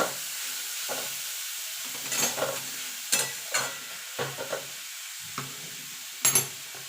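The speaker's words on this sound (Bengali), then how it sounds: "গাজরটা দিয়ে গাজরটা একটুখানি নাড়াচাড়া করে নেবো" Grated carrot being stirred in ghee in a pan for carrot payesh, with a soft steady sizzle and several scraping stirs that come in short, uneven bursts.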